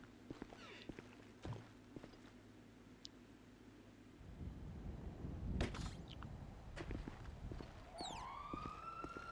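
A character's footsteps walking in GTA 5 Online: soft, intermittent steps, later joined by a louder rumble of traffic-like noise and a rising, siren-like whine near the end.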